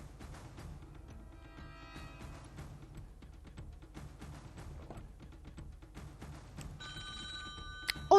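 A telephone rings repeatedly on a Swiss game show set, its electronic bell tones sounding in bursts over a murmuring studio background, with a louder ring near the end.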